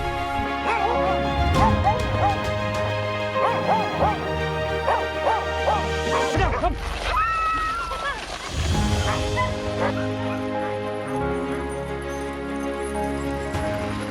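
Sled dogs bark and yip repeatedly during a dog sled ride, loud and close, with whimpers mixed in. A voice is heard among the dogs, and a burst of wind noise or handling comes in partway through.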